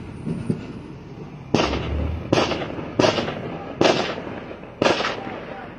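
Five sharp, loud gunshots ring out during a police officer-involved shooting, spaced about a second apart, each with a short echoing tail, over a faint background murmur.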